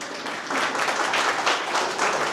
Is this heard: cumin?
no